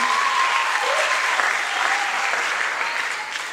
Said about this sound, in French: Nous pouvons applaudir pour eux pendant qu'ils se saluent